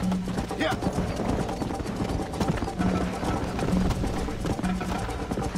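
Horse galloping in the Red Dead Redemption video game, steady rhythmic hoofbeats running continuously through the clip, with game sounds and a speaking voice over the top.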